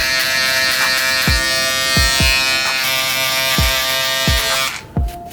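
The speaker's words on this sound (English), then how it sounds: "So now in order to blend this line out, you just take your trimmers." Electric hair trimmers cut and blend a shadow fade taper at close range, giving a steady, loud buzz broken by irregular soft taps and clicks against the head before the motor cuts off near the end.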